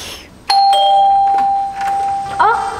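A home doorbell chimes clearly, a sustained electronic tone after a sharp onset, with a faint voice and a brief chirp near the end.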